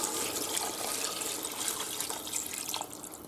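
Water is poured into a pan of chicken pepitoria after the wine goes in, making a continuous splashing rush that stays fairly steady and close, with no talking.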